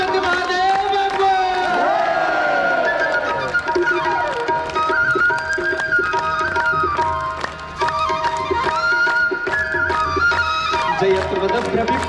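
A crowd claps steadily in rhythm during the evening aarti at the Pashupatinath temple grounds, the claps blending under loud devotional singing and music.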